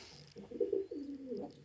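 Pigeons from a home breeder's crossbred flock coo in a steady, rolling series of low calls close by, with no talk over them.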